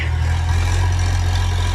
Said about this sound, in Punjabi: ਉਹ ਲੱਗ ਰਿਹਾ ਆਪਣਾ ਟਰੈਕਟਰ